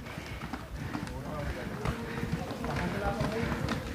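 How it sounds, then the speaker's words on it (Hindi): A herd of horses and donkeys comes along a hillside path near Bhawani temple at Karela, Rajnandgaon, with a steady patter of clip-clopping hooves close by while a person talks over them. "ये देखिए मेरे पीछे घोड़े और गधे लोग आ रहे हैं"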